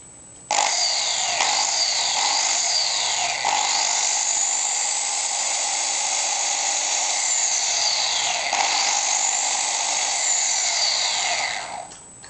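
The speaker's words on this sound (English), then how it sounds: "with the drill, we're going to rotate this magnet" A power drill spins a magnet in a steady, high-pitched whine that starts abruptly, holds loud and even for about eleven seconds with slight sweeping pitch wobbles, then cuts off; close and alone.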